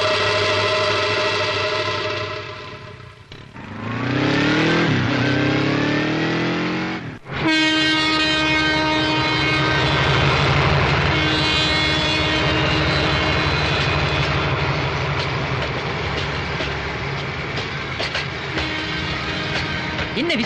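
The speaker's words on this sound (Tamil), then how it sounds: "9:30 மணிக்கு ராயபுரம் ரயில்வே ஸ்டேஷன்." At Royapuram railway station, a train sounds long, loud horn blasts as it rumbles close by, with rolling wheel noise continuing throughout.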